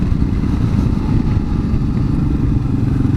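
A 2022 Kawasaki KLR650 dual-sport motorcycle engine rumbles steadily and loud up close, a constant low, slightly clattery drone with no talking.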